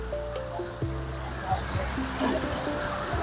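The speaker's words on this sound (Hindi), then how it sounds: "देखिए रास्ते में झरने मौजूद हैं।" Mountain waterfall stream rushing beside a trekking trail, a steady close wash of flowing water that fills the whole moment, with a person talking over it.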